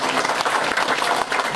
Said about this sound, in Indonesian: Kita kasih tepuk tangan buat beliau.